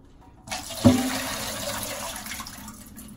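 Tap water runs hard into a sink while potatoes are rinsed under it. The gush starts abruptly, gives a brief splash as it hits, then continues steadily and fades slightly, with no voices.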